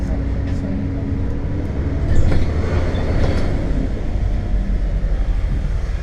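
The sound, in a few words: trains near Victoria Station, London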